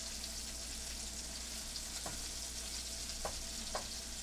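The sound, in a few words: Swedish meatballs frying in a pan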